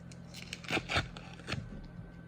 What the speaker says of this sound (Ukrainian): У нас цей от пакетик відкриваємо його.